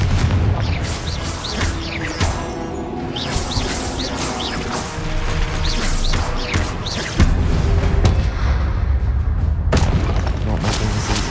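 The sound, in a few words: Confringo blasting spell explosions in Hogwarts Legacy video game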